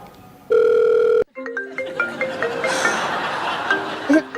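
A phone call is placed, with a loud steady tone followed by a busy run of short electronic dialing and ringing beeps. The sound is close and clear.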